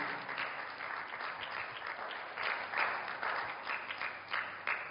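A church congregation claps together during a service, a sustained, slightly rhythmic patter of many hands that swells and pulses without any talk.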